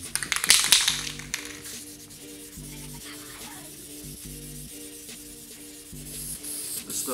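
Rubbing a second coat of coating onto a vinyl golf cart seat during restoration, heard as repeated soft rubbing strokes close by with a few taps, steady and fairly quiet, with no talking.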